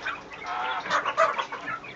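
Chickens and young roosters in a cage clucking close by, a busy overlapping run of soft clucks and short squawky calls with no talk over them.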